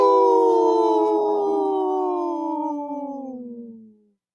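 On a radio show, a person imitates a wolf with one long, sustained howl that slowly slides downward in pitch and fades out over about four seconds, loud and close, with no other talk.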